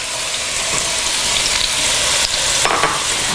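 Sliced onions fry in a hot pan for a stir-fry dinner, a loud, dense, continuous sizzle with brief stirring scrapes toward the end.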